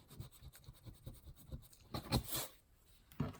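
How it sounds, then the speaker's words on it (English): Gentle wiping and rubbing strokes on a black paper envelope to remove glue, a quiet scratchy swishing that comes in short repeated passes, with a louder scrape near the end. "you might want to wipe off your glue"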